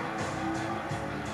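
A Corvette driving in GTA IV, a steady engine drone with tire noise and a faint skid under the motor, alone for a short moment.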